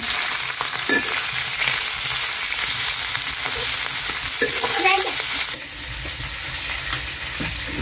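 Tengra fish fry in a pan with a loud, dense, continuous sizzle and scattered crackles, dropping a little in level near the end while the frying carries on.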